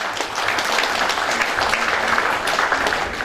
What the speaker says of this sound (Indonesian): berikan tepuk tangan yang berat sekali lagi kepada Bapak Ibu semuanya